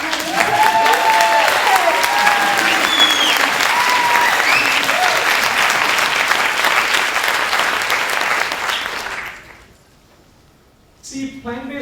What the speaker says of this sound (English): can we have a big round of applause for Dr. Zara and Shirin Qasem for organizing?